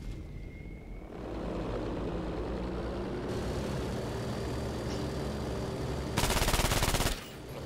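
Bomber aircraft droning in the video game Battlefield V, a steady engine roar with scattered distant gunfire, then a loud, rapid burst of machine-gun fire for about a second near the end.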